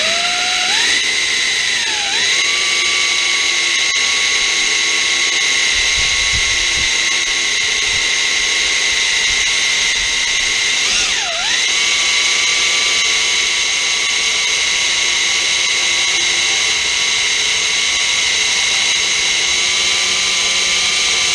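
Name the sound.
power drill drilling metal pins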